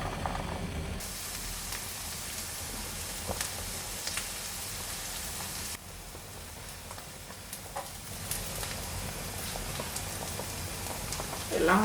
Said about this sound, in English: we're gonna saute the onion first so it can soften